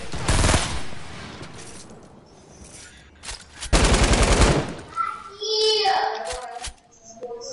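Bursts of machine gun fire in a video game, a loud rapid volley at the start and another around the middle, with quieter game sounds and brief voice-like noises in between.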